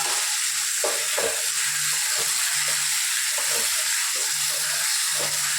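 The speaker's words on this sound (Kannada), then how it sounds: "ಇದನ್ನು ಕೂಡ ಒಂದು ಸ್ವಲ್ಪ ಚೆನ್ನಾಗಿ ಫ್ರೈ ಮಾಡ್ಕೊಬೋದು." Food frying in a pan sizzles and crackles steadily, with intermittent stirring scrapes and clinks cutting through a constant close hiss, and no voices.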